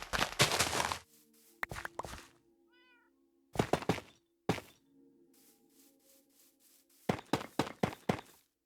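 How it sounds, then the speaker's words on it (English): Cat meowing in the Minecraft video game, short game-sound meows heard among louder, punchy game effects and thuds, with several bursts of noise breaking up quieter stretches. "I think I'm just gonna store this cat in here for now."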